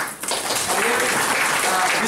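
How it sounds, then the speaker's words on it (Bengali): Loud audience applause at a rural development planning discussion, rising quickly after a brief dip and holding as a dense, steady roar of clapping. "জোরে হাততালি।"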